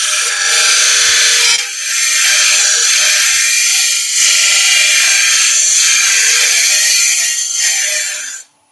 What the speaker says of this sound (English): it's a much finer cut, and I'm tickling the side grain